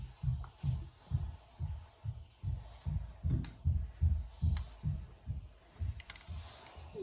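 An iron pressed down firmly and worked back and forth over a silk neck tie, giving a steady series of soft, evenly spaced thumps and rubbing strokes, close and fairly quiet with no talking.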